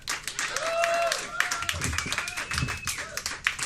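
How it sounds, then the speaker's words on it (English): A pub crowd at a stand-up comedy night claps and cheers for a comedian, with whoops and voices mixed in over the moderate, scattered applause. "All right, another round of applause for Sam."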